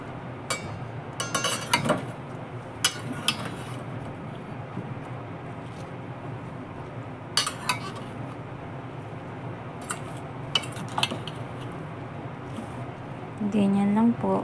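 Cutlery clinking and scraping in a bowl while tossing a salad of cherry tomatoes, cucumber, celery and lettuce, in scattered bursts of close clatter with someone talking over them.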